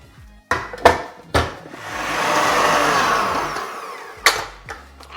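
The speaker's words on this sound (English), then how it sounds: "we're gonna put it into the mixer" A stand mixer kneading slightly dry bread dough: a few loud clunks, then a steady motor whir that swells and fades, then more knocks near the end, with no talk.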